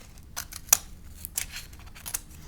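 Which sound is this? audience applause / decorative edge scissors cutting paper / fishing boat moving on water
decorative edge scissors cutting paper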